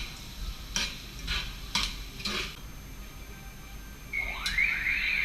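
Crawfish cooking in a cast iron pot: several scraping stir strokes over a steady sizzle, close and moderately loud, with a rising chirpy squeak near the end and no talk.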